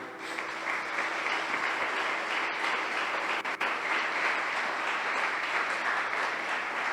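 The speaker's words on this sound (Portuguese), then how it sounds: "Aplaude a Ele." Church congregation applauding steadily throughout, a dense continuous wash of clapping with no breaks and no voices on top.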